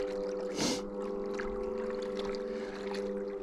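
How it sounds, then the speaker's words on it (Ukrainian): A Flytec D16 GPS fishing bait boat cruising across water with a steady, continuous motor whine and hum, plus a brief louder splash-like swell early on and faint background noise. "Цей кораблик поплив на нашу четверту точку."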